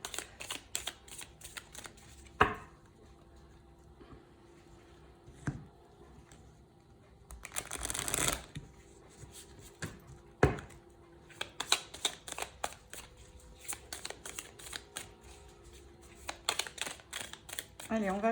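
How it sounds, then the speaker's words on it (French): Tarot cards being shuffled and cut, soft close papery riffles and taps scattered through the stretch, with a louder flurry midway and quiet talk in French underneath. "on va couper et chercher nos cartes"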